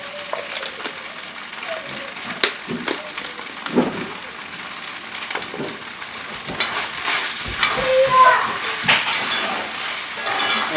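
Flour and loose meat sizzle and fry in a pan for a spicy sandwich, with steady crackling broken by frequent scrapes and clinks of a utensil stirring against the pan, close and fairly loud.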